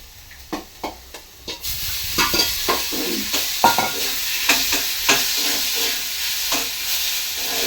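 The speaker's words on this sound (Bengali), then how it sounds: "তো আলুগুলো ভাজা হয়ে গেছে এবার ম্যাগিটা দিয়ে দেবো" Potatoes and Maggi noodles sizzle in a pan while a spatula scrapes and stirs in repeated close strokes, the frying hiss swelling loudly and continuously after a quieter start, with no talking.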